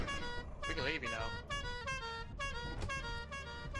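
A vehicle horn in the video game Lethal Company honks in a string of short, bright toots, with players talking in voice chat underneath.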